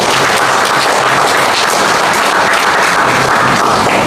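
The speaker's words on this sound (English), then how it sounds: "So a big thanks to all of you and a big applause for us." Loud, dense applause from an audience at a World Blood Donor Day event honouring blood donors, a steady wash of clapping that fills the whole stretch with no pauses.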